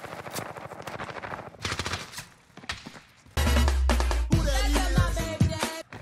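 Rapid automatic MP5 fire in Call of Duty, bursts of close, punchy shots first at moderate level, then a loud, dense stretch of sustained firing mixed with heavy game effects.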